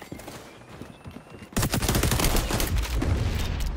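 Rapid bursts of automatic gunfire from the online shooter XDefiant erupt loud and dense after a quieter opening with scattered shots, continuing as a sustained close fusillade to the end.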